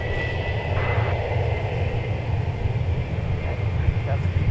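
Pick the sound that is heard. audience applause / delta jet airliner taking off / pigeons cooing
delta jet airliner taking off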